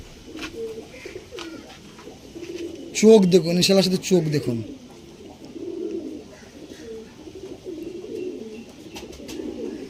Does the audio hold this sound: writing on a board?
no